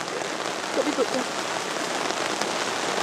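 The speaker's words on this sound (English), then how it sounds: "Trying to get some artistic shots of the rain." Steady rain falls at a campsite in Lyme Regis, a dense, even patter on surfaces throughout, close and continuous, with a few faint voice-like sounds briefly under it.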